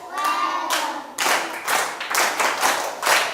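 Schoolchildren in a classroom clap for themselves in irregular bursts, close and loud, with a few sharp claps near the start and then several ragged group rounds.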